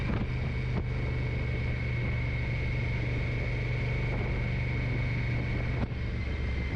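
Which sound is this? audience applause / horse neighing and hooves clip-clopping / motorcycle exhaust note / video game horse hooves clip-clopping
motorcycle exhaust note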